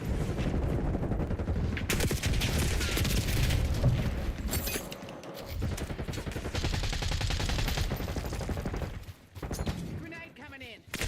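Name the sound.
gunfire in video game Black Ops 6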